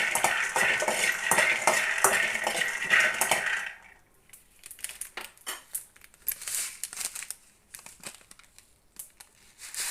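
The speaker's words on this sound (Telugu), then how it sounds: "పల్లీలే ఫస్ట్ వేయించుకోవాలి చూడండి మంచిగా వేయినాయి పల్లీలు" Peanuts roasting in a pan for a stuffed brinjal masala curry, with dense, loud stirring and scraping for about four seconds, then sparser, intermittent scrapes and clicks of a spatula against the pan.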